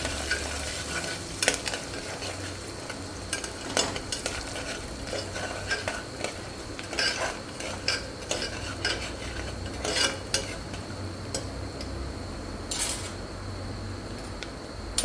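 Khichadi being stirred in a pan after garlic chutney and green chillies go in, for a Kathiyawadi vaghareli khichadi: steady scraping and clinking of a spoon against the pot over a soft sizzle, close and continuous with no talking.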